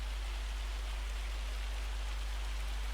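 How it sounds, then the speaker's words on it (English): Steady, dense patter of hail falling in a farming video game set on Judith Plains, Montana, a continuous even hiss with no breaks and no voices. "go away, hail"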